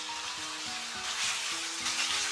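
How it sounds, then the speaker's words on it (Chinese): Chicken breast sizzles in plenty of hot oil in a wok, a bright steady crackle and hiss with faint rhythmic stirring scrapes underneath, close and continuous. "锅中下入多一点的食用油，油温5成热，下入鸡胸肉，"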